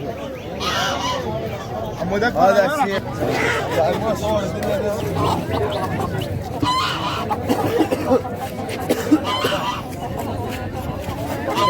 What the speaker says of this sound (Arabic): هذا ديك